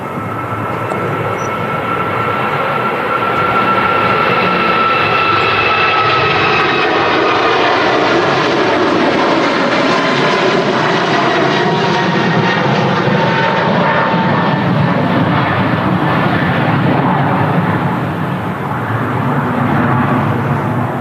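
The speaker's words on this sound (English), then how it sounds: "And next to depart will be the Aer Lingus" An Aer Lingus Airbus A321LR departs the runway at Manchester Airport, its jet engines a loud, sustained roar that swells and holds for about twenty seconds with no voices.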